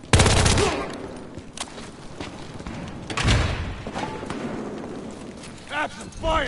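K-10 submachine gun fire in Battlefield Hardline multiplayer: rapid bursts of shots crackle at the start and again midway, close and punchy, with excited shouting voices talking over the action.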